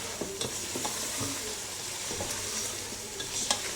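Spices such as cumin sizzling steadily in a hot pan while a spoon stirs and scrapes through them, with occasional clinks, for a chicken haleem; the frying stays close and even throughout, and no one speaks.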